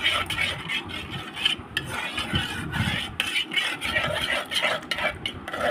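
A spoon scrapes and swirls steadily around a pot of milk being cooked down for sweet red yogurt, giving a continuous rasping, rubbing stir with small metallic clinks, close and fairly loud.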